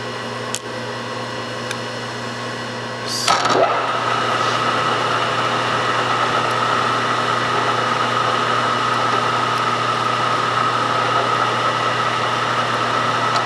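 A milling machine runs steadily with a constant mechanical hum while machining a Holley carburetor, starting after a brief clunk and whir near the start and continuing evenly throughout.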